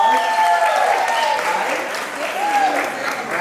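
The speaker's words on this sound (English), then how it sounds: "Let's give them a round of applause" Applause for the wedding hosts at a reception, a steady wash of clapping from the guests that carries on for several seconds, with a voice heard faintly over it.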